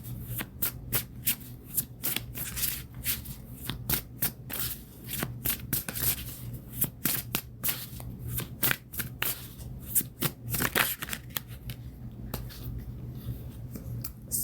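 Tarot cards are shuffled by hand in rapid, crisp riffles and taps, close and steady throughout with no voice.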